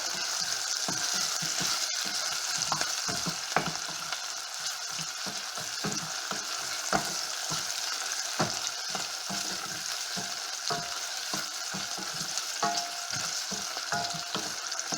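Pork sizzles in a pan with softened onion and garlic, a continuous frying crackle broken by frequent sharp spatters and stirring clicks, close up and without voices.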